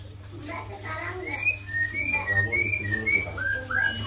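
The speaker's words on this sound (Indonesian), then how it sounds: "Perenjak tamu sepasang." A pair of perenjak (prinia) songbirds call in sharp, repeated rising whistles and chirps close by, over a low hum and faint talk.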